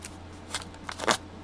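Scissors trim a piece of craft material, a few quick, close snips over a faint steady hum.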